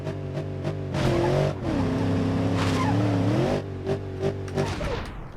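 Car in BeamNG.drive accelerating hard with a loud, rising engine roar that shifts pitch through gears, sharp tire squeal and skidding bursts, close and continuous over about five seconds.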